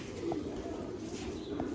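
A pigeon coos softly in a quiet spot, a low throaty note repeated twice within a couple of seconds.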